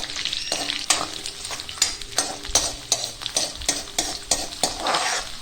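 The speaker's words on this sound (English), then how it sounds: "Garlic fried in sesame oil has numerous health benefits" Garlic cloves fry in sesame oil for a Tamil manathakkali curry, a bright continuous sizzle punctuated by regular scraping strokes of a ladle against the pan, close and clear.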